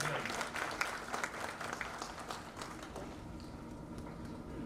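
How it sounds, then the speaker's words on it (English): A dense, continuous wash of applause fills a National HRD Network South Gujarat convention in Surat, many hands clapping at once in a steady roar that eases slightly toward the end. "A big round of applause for our convention chair"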